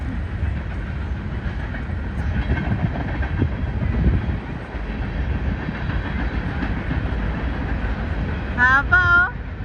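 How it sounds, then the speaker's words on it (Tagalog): A long train rolls past a busy park in a continuous low rumble, with a short horn-like tonal blast near the end. "Haba ng train mga idol and sis."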